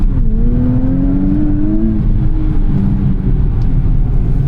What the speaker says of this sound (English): Getting a bit of turbo lag from this twin turbocharged V6